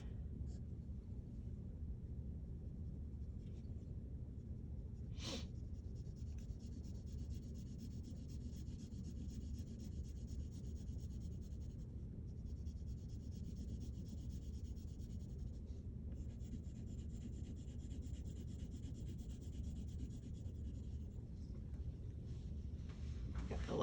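A 6B graphite drawing pencil shades steadily across paper in a long, continuous soft rub, close and quiet, with one brief sharper tick partway through.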